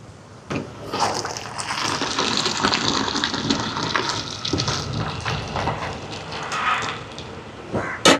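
Cooked yellow rice being drained of its water in a large-batch outdoor kitchen, a steady gushing pour of liquid lasting several seconds with a splashy burst near the end.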